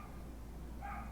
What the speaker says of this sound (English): this dog is so loud.